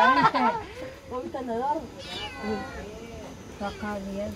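A hungry cat meows repeatedly in a domestic kitchen while chicken cools nearby, a series of close, rising and falling meows interleaved with a person talking over them.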